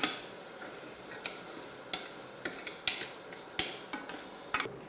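Faint, steady sizzling of fat frying in a pan, with occasional soft clicks and taps of a utensil.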